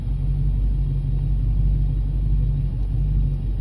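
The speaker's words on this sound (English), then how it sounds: "My engine is running because I am sitting in the car at the moment" A car engine idling while parked with the driver inside, a steady low rumble with an even hum, continuous and close throughout.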